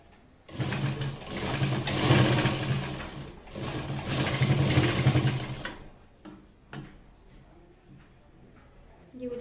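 A sewing machine runs in two long, loud bursts while stitching a kurti, steady rapid mechanical whirring with a short pause between, followed by quieter clicks and handling sounds.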